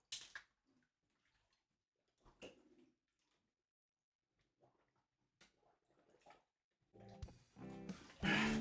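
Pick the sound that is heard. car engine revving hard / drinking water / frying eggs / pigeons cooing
drinking water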